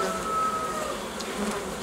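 Honey bees buzzing around hive frames during hive work, a continuous soft droning hum with nearby individual bees passing, no talk.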